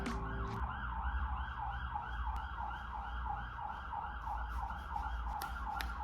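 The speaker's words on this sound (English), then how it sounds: "I don't know when this siren's gonna go away" A wailing emergency siren cycles up and down steadily, loud and continuous, over a low rumble of passing traffic.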